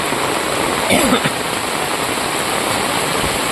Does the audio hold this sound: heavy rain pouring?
yes